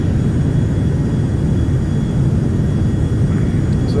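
An airplane in flight turning over Denver in clear weather, heard from inside the cabin as a steady, loud low roar of engine and airflow that holds constant throughout.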